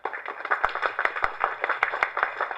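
An audience claps at an audio launch event, a steady patter of many hands with a few sharp, louder claps standing out, fairly close and continuous throughout.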